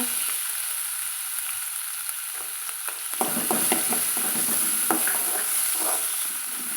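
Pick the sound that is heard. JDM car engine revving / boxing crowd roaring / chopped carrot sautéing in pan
chopped carrot sautéing in pan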